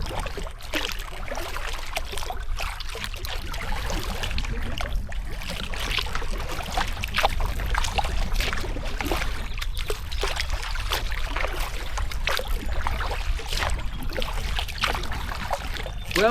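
A kayak paddled on the Grand River, with rhythmic paddle strokes and water splashing and trickling close by, steady throughout.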